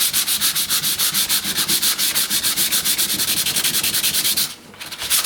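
Wood veneer finish being sanded by hand with 100 grit sandpaper, a close, steady rhythmic rasp of quick back-and-forth strokes that continues evenly before stopping briefly at the end.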